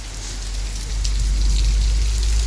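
Heavy rain pours down steadily at night during a thunderstorm, a loud dense hiss that swells slightly after the first second, with no voices.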